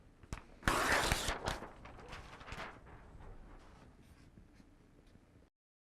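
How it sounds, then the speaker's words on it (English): Pen or marker writing out a derivative on paper, a few scratchy strokes and taps, strongest early then fading into quieter intermittent scribbles before silence. "So let's write the derivative once more."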